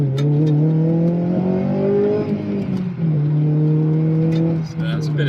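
Honda Civic Type R engine with an aftermarket exhaust revving up through VTEC, loud nearby rising whines that dip and climb again, with a voice speaking over the noise.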